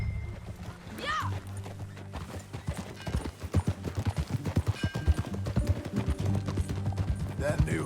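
Horse hooves clip-clopping at a quick, steady riding rhythm in the video game Red Dead Redemption, close and distinct, with a short whinny early on and a low musical bed underneath.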